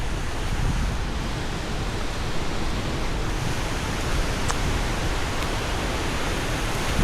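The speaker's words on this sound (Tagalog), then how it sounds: "Lakas ng hangin na ito" Strong wind blows across open ground outdoors, a loud, unbroken rushing roar that fills the whole stretch with little variation.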